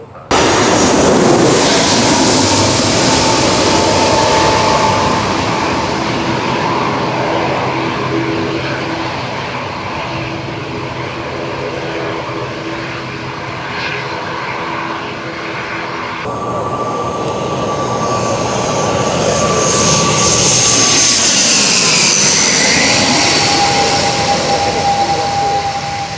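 Airplanes taking off and landing at Songshan airport in urban smog, a loud sustained jet engine roar that swells and fades, with a second aircraft rising in pitch as it passes overhead midway; no voices.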